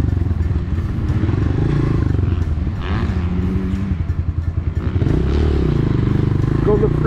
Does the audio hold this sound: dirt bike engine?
yes